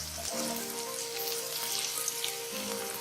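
Chopped ivy gourd (tindora) sizzles steadily in hot oil with roasted green chilies, a dense, close frying crackle holding level for a few seconds with no voices.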